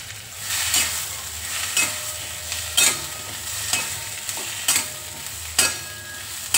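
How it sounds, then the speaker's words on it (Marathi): Ground masala of sesame, peanuts, roasted gram and niger seed being sautéed in a pan, a steady close sizzle with a spoon scraping and stirring in regular strokes roughly once a second. "आपण छान परतून घेऊ."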